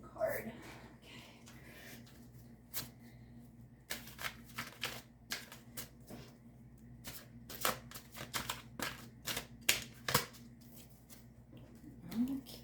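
Tarot cards are shuffled close by in quiet, crisp riffling bursts, a flurry of papery flicks and taps, with a soft voice speaking now and then.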